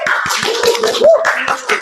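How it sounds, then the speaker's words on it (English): Classmates clap for a student, a loud, close burst of irregular handclaps with a brief voice mixed in. "Give applause to Brian"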